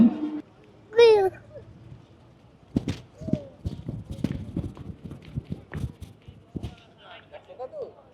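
Cattle hooves clop and shuffle on the ground at a busy Qurbani cattle market, a series of uneven nearby knocks and scuffs, with brief voices and an animal call at the start.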